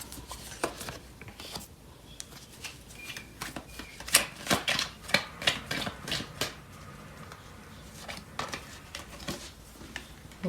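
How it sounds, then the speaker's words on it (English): Tarot cards being shuffled and pulled from a deck, giving soft crisp flicks and papery taps in irregular bursts, close and quiet, with no talk. "So I'm going to pull out some more cards."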